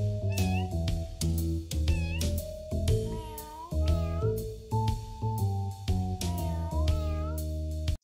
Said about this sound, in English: They also make some weird meows.